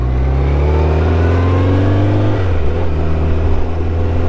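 A motorcycle engine droning steadily while riding at night, loud and close, its pitch easing down partway through as the revs drop, with no voices.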